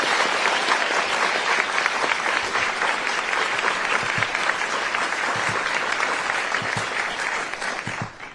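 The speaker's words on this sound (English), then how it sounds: "Another round of applause for the justice." Audience at Georgetown University gives Justice Sotomayor a sustained round of applause, thick continuous clapping that holds steady for several seconds before tapering off at the end.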